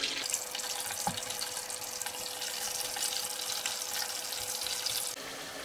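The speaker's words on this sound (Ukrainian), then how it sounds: "І тепер підсмажуємо порціями дольки перцю." Pepper slices fry in batches in oil in a thick-bottomed pot, giving a steady, dense sizzling hiss that carries on evenly throughout, fairly quiet and with no voices over it.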